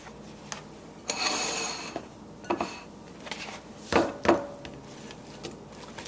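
Zucchini casserole ingredients mixed in a dish, with scattered clinks and knocks of a utensil against the dish and short scraping bursts between quieter pauses, close by.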